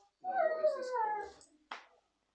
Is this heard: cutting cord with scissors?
no